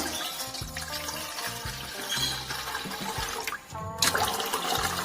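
About two cups of water are poured into a pot close by, splashing and gurgling steadily, with a brief dip before the flow swells again.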